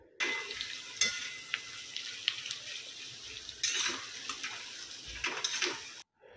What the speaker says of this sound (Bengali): আজকে মটন রান্না করছি, এতে দুটো তেজপাতা দিয়ে দিলাম।